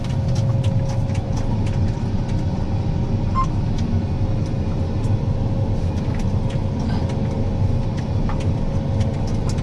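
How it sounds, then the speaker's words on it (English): A farm vehicle engine running close by at harvest time, with a loud, steady low rumble and drone that holds at a constant level without clear rises. "Rev her up a bit."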